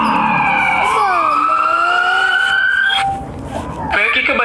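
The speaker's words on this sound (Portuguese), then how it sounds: "A tela fica preta e os sons de sirenes podem ser ouvidos no fundo" Emergency vehicle sirens wail in the background of a dramatic scene, with loud rising and falling tones overlapping, then a brief dip before they return, mixed with other scene noise.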